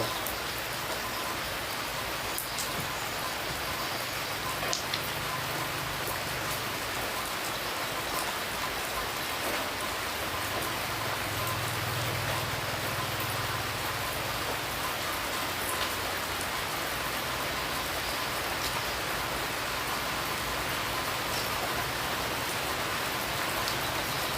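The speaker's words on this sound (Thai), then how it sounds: "ติดอยู่ในเต็นค่ะฝนตกค่ะ" Steady rain drums on a tent, an even, dense pattering that never lets up, with no voices.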